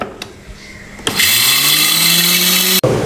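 An electric spice grinder whirs loudly as it grinds whole coriander and cumin seeds for a chicken korma, starting with a sharp jolt, holding a steady high whine, then cutting off abruptly.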